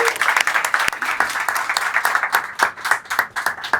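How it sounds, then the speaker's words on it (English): An audience claps steadily, a dense burst of applause from many hands in a room. "Big round of applause,"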